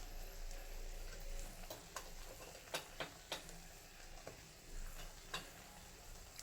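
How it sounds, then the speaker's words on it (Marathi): Coconut, garlic and ginger paste sizzles quietly in a pan while being sautéed, a soft steady frying hiss broken by light scraping clicks of the stirring spoon. "खोबरं लसूण अद्रकची पेस्ट टाकलेली आहे ती छान अशी एक अर्धाभर मिनिट परतून घ्यायची"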